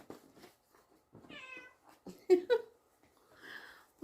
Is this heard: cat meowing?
yes